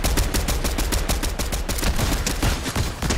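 Dense, continuous video game gunfire rattles without pause through the whole stretch, rapid overlapping shots forming a loud, close barrage with no talk over it.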